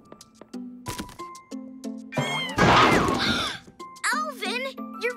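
A cartoon kitten meows several times in short, rising and falling cries, mixed with light jingling tones and children's voices talking.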